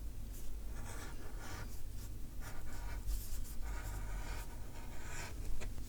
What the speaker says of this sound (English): I'm going to go ahead and bevel the edges along these sides